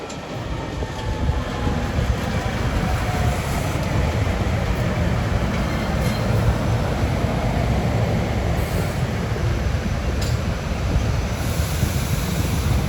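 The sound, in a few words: SEPTA passenger train passing near Overbrook, Philadelphia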